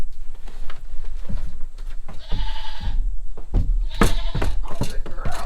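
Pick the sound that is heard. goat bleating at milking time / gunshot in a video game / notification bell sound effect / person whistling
goat bleating at milking time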